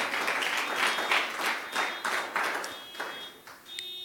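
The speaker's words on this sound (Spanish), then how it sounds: "Le damos un fuerte aplauso al Señor Dios." A church congregation breaks into applause, a burst of clapping from many people that swells and ebbs in waves, with a faint ringing tone threading through and the clapping thinning out at the end.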